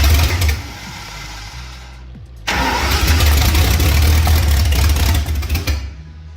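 A carbureted engine that needs tuning cranks briefly, stops, then fires and catches with a sudden loud roar, running rough and steady for several seconds before dropping off, heard up close.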